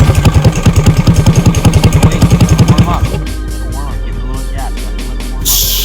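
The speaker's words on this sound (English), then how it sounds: "Drivers, start your engine." Go-kart engines chug in a rapid, pulsing rhythm as they start, then cut to a quieter idle with scattered mechanical clatter and a brief hiss at the end.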